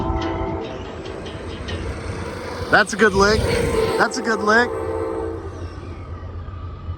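A train horn blows, a sustained chord that swells and then fades, with a steady rumble of an approaching train underneath and people talking close by over it.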